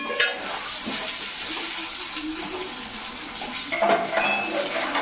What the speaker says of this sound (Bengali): সেদ্ধ আলু একটু ভাজা ভাজা করে নিলে ঝিলের গন্ধটা খুব ভালো হয়